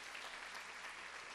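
A church congregation applauding together, a dense, even wash of clapping from many hands for a short stretch, steady and fairly soft with no pauses.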